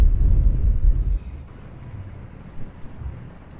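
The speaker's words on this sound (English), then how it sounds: "Our wind has come up." Wind rises at sea around a lone sailboat in a reef, buffeting the microphone with loud low rumbling gusts at first, then easing to a softer, uneven rush.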